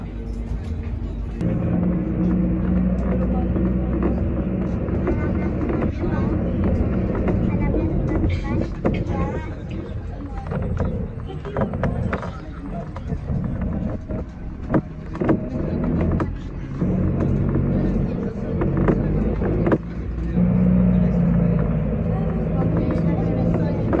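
Airport bus rumbling along on its way out to a plane, a continuous low engine and road drone with rattles and bumps, with people talking over it throughout.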